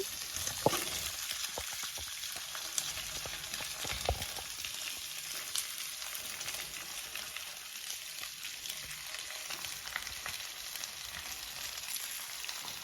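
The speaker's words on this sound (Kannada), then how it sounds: "ಆಮೇಲೆ ಇವು ಮೆಣಸಿನ್ಕಾಯಿ, ಕರಿಬೇವು, ಇವು ಟೊಮೆಟೊ ನಾನು ಇದ್ರಾಗ ಹಾಕ್ತೀನಿ ಹುರಿಯಾಕ." Chilies, curry leaves and tomato fry in a pan, a constant bright crackling sizzle with scattered small pops and a couple of faint clinks, steady and close with no voices.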